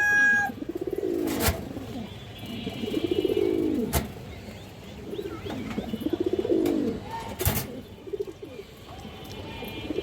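Pigeons at a farm that keeps high-flyer birds, among them a high-quality female, coo in loud, rolling, swelling calls that repeat every couple of seconds, with a few sharp knocks between them and no speech.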